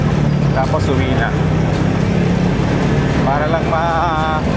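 A motorcycle engine hums steadily up close while people talk over it, the engine's low drone continuing beneath their voices.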